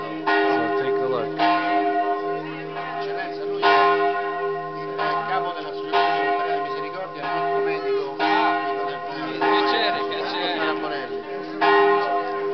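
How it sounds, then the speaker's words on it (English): Church bells peal in Trevi nel Lazio, greeting a visiting bishop, with repeated strong bell strikes layered into a continuous ringing wash, loud and close throughout. "they are ringing the bells for our Bishop Tom"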